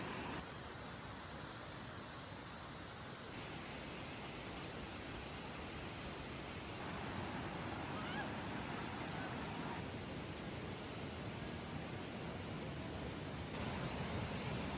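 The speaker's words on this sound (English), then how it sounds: "The view of the waterfall sure did not disappoint." Steady, even rush of falling water at a paid-entry forest waterfall near Kuantan, Pahang, Malaysia, a broad unbroken roar that holds at a constant level throughout with no voices.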